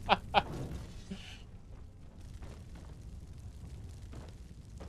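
An immolation fire spell hits in Skyrim: two sharp, loud bursts land right at the start, followed by a lower, fainter rumbling crackle that lingers.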